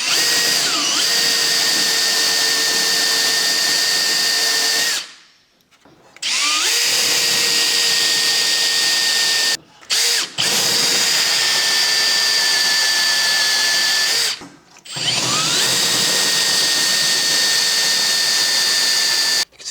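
A power drill bites through the spot-welded outer wing panel of a barn-find Porsche 356 under restoration, whining loudly and steadily in three long runs separated by short pauses, close up with no talk.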